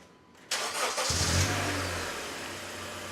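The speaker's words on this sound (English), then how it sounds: "I have my little brother turn on the car and see if it makes a sound" Honda Accord with a faulty starter cranking and struggling to start, a sudden harsh churn that gives way to a rough, uneven engine rumble, close and loud with no talk.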